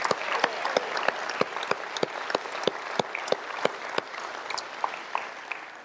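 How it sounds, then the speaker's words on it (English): A crowd at a religious gathering applauds first-time guests with a continuous wash of clapping, sharp individual claps popping out near the front, steady and unbroken throughout with no talking. "Let's give our first time guests a round of applause."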